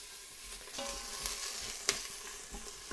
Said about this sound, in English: Instant Pot here on saute, so we're just cooking down the onions for a few minutes